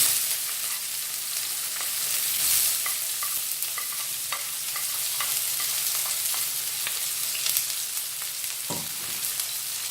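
Chopped onion, ginger and garlic fry in hot oil with bay leaves for a spinach and potato gravy, giving a steady broadband sizzle for the whole stretch, broken by a few soft stirring scrapes and clicks.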